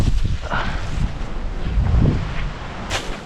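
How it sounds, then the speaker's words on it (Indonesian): Wind gusting outdoors on a fishing trip after rain, a rough, blustery rumble buffeting the microphone, steady and fairly loud with brief swells. "Ini udah berembus ini. Mungkin karena efek hujan ya. Efek hujan jadinya berangin."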